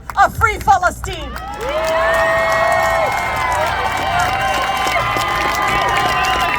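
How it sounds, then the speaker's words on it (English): A rally crowd on the National Mall cheers and applauds loudly and continuously, with a few shouts rising at the start before a steady, sustained roar of clapping and cheering fills the rest. "Everybody give a big round of applause for Cori Brooks."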